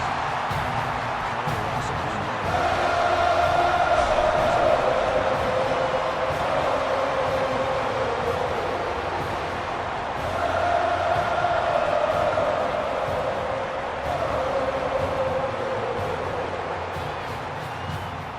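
A football stadium crowd roars after a quarterback sack in a UNC versus FSU game, a loud, sustained wash of cheering that swells and eases in waves, with commentary partly heard under it.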